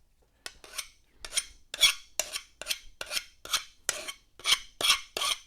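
Burrs being filed off the edge of a metal piece in a garage: about a dozen sharp, bright rasping strokes in a brisk, even rhythm, close up and alone with no talk.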